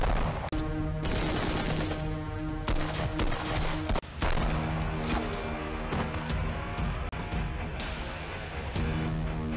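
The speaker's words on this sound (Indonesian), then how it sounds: "Yadi menembaki petugas." Rapid bursts of automatic gunfire crackle continuously through a film shootout scene in which officers are fired upon, loud and close, with sharp volleys barely pausing.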